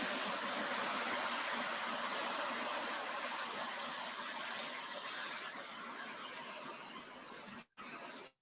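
An airplane's engines roar as someone boards: a steady broadband whoosh and hum fills the clip at fairly low level, swelling slightly near the end before cutting out briefly.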